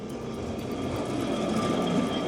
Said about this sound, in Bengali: ওই দেখুন আসছে সেই ছোট্ট ট্রাম।